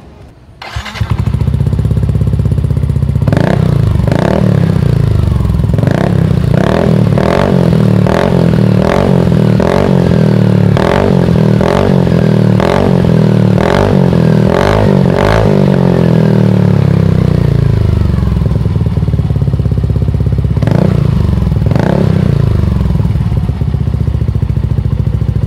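Yamaha NMAX scooter fitted with a Daytona exhaust and dB killer, revved outdoors: loud engine running throughout with a series of sharp rhythmic throttle blips, a steady stretch, then two more revs near the end.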